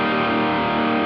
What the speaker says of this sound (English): Really fat distortion, yet definition.